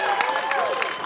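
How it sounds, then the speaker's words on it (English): A rally crowd at the Michigan State Capitol applauds and cheers in a short, dense burst, with raised voices mixing into continuous clapping. "So everybody, round of applause."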